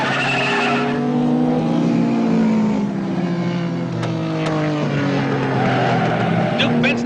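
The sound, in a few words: race cars in a motor race, Ferrari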